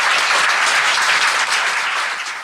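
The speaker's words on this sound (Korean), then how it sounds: "이분한테 좀 박수 좀 부탁드립니다." An audience at a live Korean talk show event applauds, a loud, dense burst of clapping that carries on steadily before tapering off slightly at the end.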